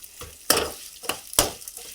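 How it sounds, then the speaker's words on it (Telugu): Drumstick leaves frying in oil and being stirred, with three or four sharp scraping bursts of a spatula in the pan over a soft sizzle, close and loud. "ఇట్లా చక్కగా వేయించుకోవాలని."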